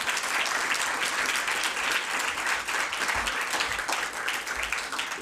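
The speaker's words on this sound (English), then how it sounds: "let's give all of our sponsors, presenters, and honorees another round of applause." Loud, sustained applause from a large awards-ceremony audience honoring sponsors, presenters and honorees at the 2015 ABC Awards, dense and steady throughout with no talk over it.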